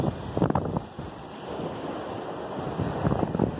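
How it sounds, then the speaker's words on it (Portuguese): Ocean waves at a semi-deserted beach in Santo André, Porto Seguro, Brazil: continuous surf wash with wind buffeting the microphone and a few louder breaking surges, no voices. "Aqui é uma praia semideserta."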